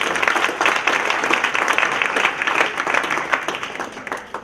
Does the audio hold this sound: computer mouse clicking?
no